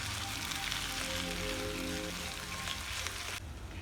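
Potato palya cooks on a low flame in a pan, giving a steady close sizzle and crackle that continues throughout, with a brief tonal hum in the first half.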